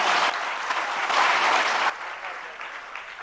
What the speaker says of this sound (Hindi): जरा तालियां बजा दीजिएगा